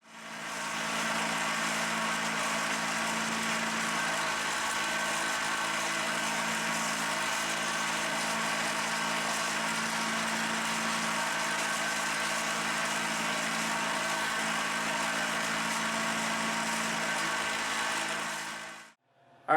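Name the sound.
buffing a 5160 steel seax knife blade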